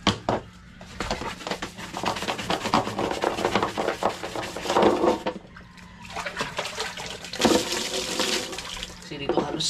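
Water pours steadily into a large storage container, kept as a reserve when there is no power or running water, with a continuous splashing rush, some rubbing and knocking, and voices now and then.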